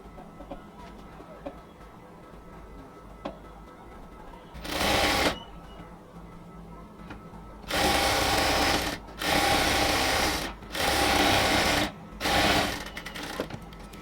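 A sewing machine runs a seam on a cotton salwar in short bursts, five loud rattling runs separated by brief pauses after a quiet stretch, fairly close.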